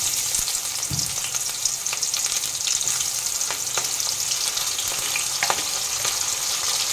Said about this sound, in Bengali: দিয়ে দেব দুটো শুকনো লঙ্কা, দুটো কাঁচা লঙ্কা, আর দিয়ে দেব পেঁয়াজ কুচি